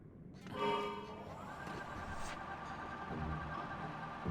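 Skeletal horses in The Legend of Zelda: Tears of the Kingdom give a whinnying neigh that starts with a sudden harmonic burst and trails into a sustained tone, faint over steady game ambience.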